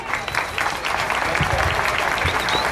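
A crowd of mothers claps steadily throughout at a Mother's Day celebration, dense applause filling the room without any voices standing out.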